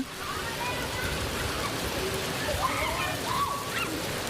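Steady rain pours onto a canvas tent used as a school classroom in Chiang Mai, Thailand, a dense, continuous hiss with scattered heavier drops, close and even throughout.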